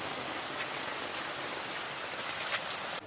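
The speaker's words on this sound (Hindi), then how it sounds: "बारिश भाई तगड़ी लग पड़ी है" Heavy monsoon rain pours steadily on a stepped hillside house in Himachal, a dense close hiss of drops on roofs and surfaces, with water running down from above, constant and loud with no talking.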